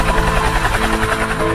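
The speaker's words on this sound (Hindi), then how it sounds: "हेलीकॉप्टर के आवाज से सारे लोग ऊपर देखने लगे।" Helicopter rotor and engine noise overhead, a loud steady thrumming wash that fills the whole short clip with no break.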